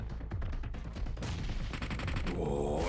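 Gunfire in PUBG Mobile during an esports championship match, rapid automatic bursts of shots stacked over one another, steady and dense, with a sharper, brighter volley near the end.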